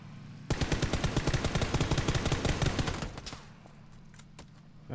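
Rapid automatic gunfire in PlayerUnknown's Battlegrounds, a dense, loud burst of shots lasting about two and a half seconds, then a few scattered single reports before fading to quiet.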